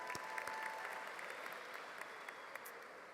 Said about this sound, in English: Let's give a round of applause to Mr. D'Antonio for all his work today